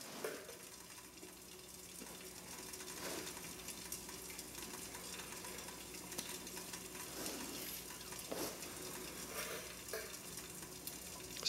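Water bubbles quietly over a small, dying flame of a DIY alcohol stove, a soft continuous sizzle and hiss with occasional faint pops.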